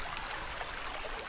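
Blackwater Creek flows near Haschberg, Germany, as a soft, steady trickling rush of water, faint and continuous for a brief moment with no voices.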